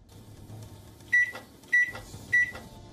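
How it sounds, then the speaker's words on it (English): A microwave oven hums steadily, then gives three sharp electronic beeps at even intervals, clear and close. "The beeping sound of a microwave to our ears is a mere signal that our food is hot"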